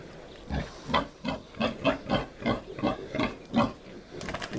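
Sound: sow grunting while nursing piglets

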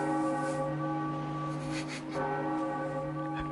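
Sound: bell ringing in The Legend of Zelda: The Wind Waker video game

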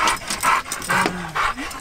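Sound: dog barking

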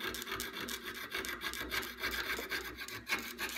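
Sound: jeweler's saw sawing sterling silver

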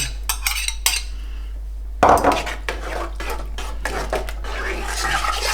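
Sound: stirring ingredients in a pot

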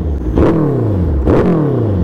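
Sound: sport motorcycle engine revving

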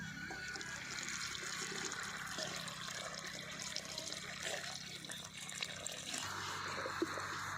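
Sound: water swished while washing

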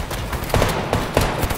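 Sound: gunfire in the video game Fortnite

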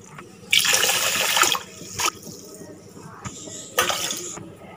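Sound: water being poured into a pot

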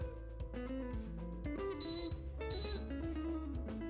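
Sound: iSpring reverse osmosis system beeping after filter reset

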